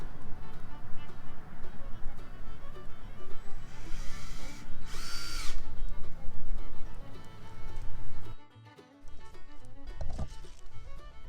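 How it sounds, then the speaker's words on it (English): A cordless screw gun drives screws into a mailbox post, a loud whirring run with a sharp high burst midway, then cutting off into quieter clicks and handling noise. "This is the screw gun. We'll go place 4 screws right here in the back side."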